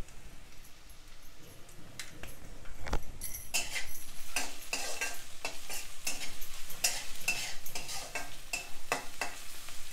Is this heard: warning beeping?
no